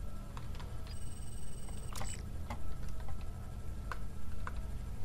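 A smartphone buzzing and chiming in the James Bond Blood Stone video game, short electronic tones and clicks over a steady game background hum, with no talking.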